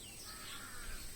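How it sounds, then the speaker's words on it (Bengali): A crow cawing outdoors on a hot sunny morning, a few faint distant calls over a low background hiss. "কাক ডাকছে"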